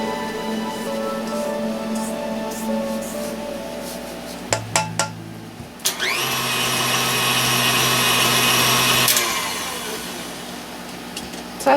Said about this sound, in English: and then run the mixer again